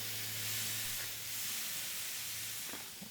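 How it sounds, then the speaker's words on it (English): Steak sizzles on a grate over a live fire, giving a steady, broad hiss that holds throughout with a faint low hum beneath and no talk. "Listen to that sizzle."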